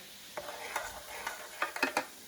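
A messy vinegar mixture for a children's science experiment is stirred on a baking sheet, giving soft wet swishes and a few light scraping clicks over a faint fizzing hiss.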